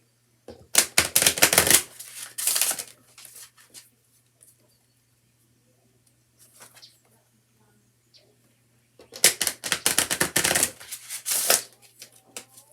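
Bursts of tarot cards being shuffled, riffling in two clusters near the start and end, with quiet gaps between and a faint steady hum beneath.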